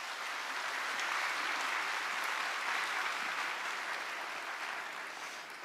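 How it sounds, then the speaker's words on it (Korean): A church congregation at Sunday worship applauds to welcome the new senior pastor, a soft, even wash of many hands clapping that swells and then tapers slightly near the end. "큰 박수로 모시겠습니다"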